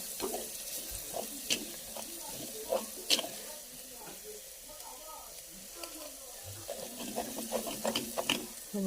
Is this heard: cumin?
yes